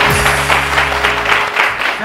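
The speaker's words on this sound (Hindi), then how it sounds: "दोस्तों जब मैं बोलता हूँ बहुत सारी तालियां तो बहुत सारी होनी चाहिए।" A studio audience on a morning television show breaks into loud, sustained applause for the guests, many hands clapping in a dense, even roar that stays strong throughout.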